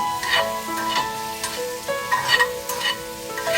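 Green apple pieces sizzle in a frying pan while a spoon stirs them for radish chutney, with close scraping strokes and a steady crackle under the stirring.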